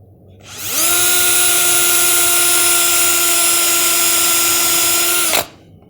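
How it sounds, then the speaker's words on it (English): A power drill drilling countersink holes spins up and runs steadily at high speed for several seconds, then winds down abruptly; loud and close, with no voices. "I'm going to drill a couple of countersink holes"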